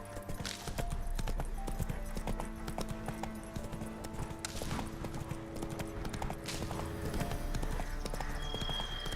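Roach the horse's hooves clip-clop in a steady, continuous rhythm in The Witcher 3, mixed with faint tonal game sounds in the background.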